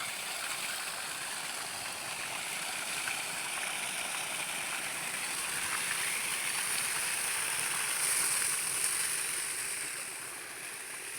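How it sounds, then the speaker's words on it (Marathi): Steady rushing irrigation water from a motor pump flows continuously into a field bed at close range, a broad even wash with no voices, easing slightly near the end. "पहिले वाफ्यात पाणी चालू आहे बघा"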